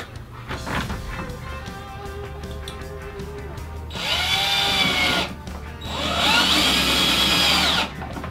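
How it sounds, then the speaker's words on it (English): A cordless drill whirs in two bursts of a few seconds each, driving screws through tiles into a sheetrock ceiling with a high-pitched motor whine and short pauses between. "I am attaching the tiles directly to the sheetrock ceiling using my cordless drill"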